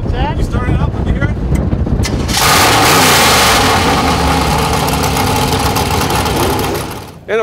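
A Bentley Continental GT Speed convertible's 616 hp engine starts up outdoors in an icy setting, cranking and catching into a loud, steady rumbling idle that holds close by before easing off at the end; a voice is briefly heard at the start.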